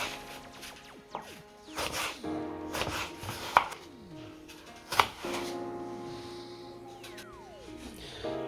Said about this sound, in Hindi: अब हम सुर्ख सेब जो है वो भी कट कर लेते हैं।